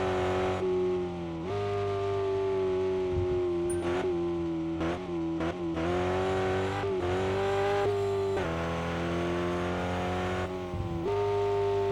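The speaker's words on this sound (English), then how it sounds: "I'm just using the engine and shifting to slow myself down, so I can get around these corners" A four-wheel-drive race car's engine drones and revs steadily, dropping and climbing in pitch as gears shift to slow it into corners, close and continuous with no talk.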